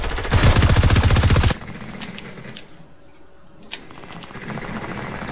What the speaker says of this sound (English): How is he hitting those shots?